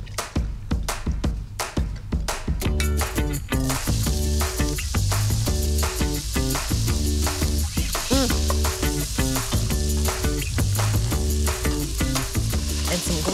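Onions and garlic sizzling in a pan for a meat sauce, a loud close frying hiss starting after a few taps and stirring clatters, then steady crackling sizzle with rhythmic stirring throughout.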